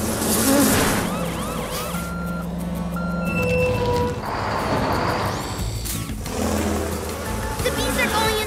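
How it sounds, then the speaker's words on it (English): Cartoon bees from PAW Patrol buzz in a busy swarm, mixed with bright tonal sound effects and beeps, with the buzzing rising and falling across the scene. "The bees are going into the beehive to make more honey."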